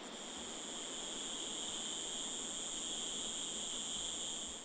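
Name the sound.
cicadas singing in jungle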